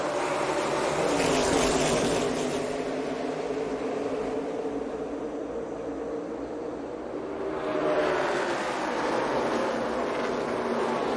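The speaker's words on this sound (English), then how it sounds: "Up through the gears they go. We're racing in Atlanta." NASCAR race cars accelerate through the gears at Atlanta Motor Speedway during the Alsco Uniforms 250. A loud, sustained engine roar swells and fades as the pack passes, with no voices audible.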